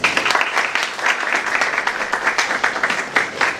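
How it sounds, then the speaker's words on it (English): Audience applause at a three-day educational competition event, dense and loud clapping from a full room that holds steady throughout, with a voice faintly underneath. "Please clap for that."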